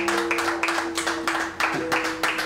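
An audience applauds three participants in a Mr Sandman show, a steady wash of claps with a few stronger bursts and a faint steady tone beneath.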